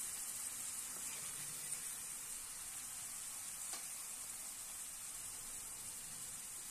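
Ginger garlic paste fries in a pan for fish curry with a steady, soft hiss, faint and even throughout, with no talking.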